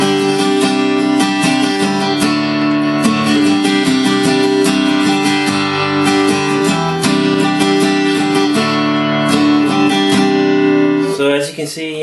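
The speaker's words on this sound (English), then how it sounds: "here's kind of an acoustic setting run through a electric guitar amp" A Taylor GS Mini guitar on an acoustic setting, run through an electric guitar amp, plays sustained strummed chords loudly and steadily before they break off near the end.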